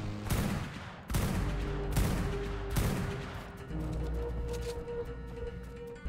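Heavy gunfire in the survival game Ark Survival Evolved, several loud booming shots and bursts spaced about a second apart over a rumbling battle din, with no talk.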